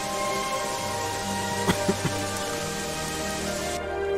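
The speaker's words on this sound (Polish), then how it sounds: "Strasznie nie lubię, jak w tej grze pada z tego względu, że jest, no, mega głośno, tak szumi." Loud rain in the video game Gothic 3 makes a dense, steady hiss throughout, with a few faint clicks partway through.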